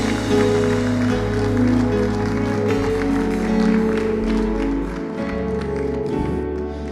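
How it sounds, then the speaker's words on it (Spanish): A church congregation claps during an online Sunday service, a patter of hands layered over sustained musical tones from instruments, steady throughout and easing slightly near the end. "Démosle un aplauso al que vive por los siglos, al Rey eterno, nuestro Señor Jesús."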